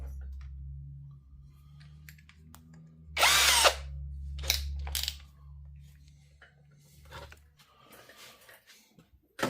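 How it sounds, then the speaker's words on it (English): A power drill, used while taking apart a clone amplifier for port work, gives one short loud whir followed by a few brief bursts and clicks. A low steady hum runs underneath, and the room is otherwise quiet. "I'll get the drill bit."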